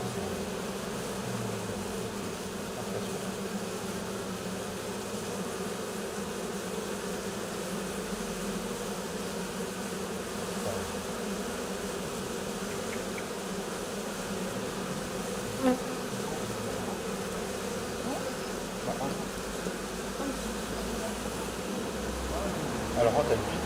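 A honeybee swarm settled on the ground gives off a low, steady, continuous buzzing hum that stays even throughout, with a few faint clicks and small knocks near the hive.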